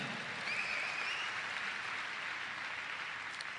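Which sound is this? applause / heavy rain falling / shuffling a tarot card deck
applause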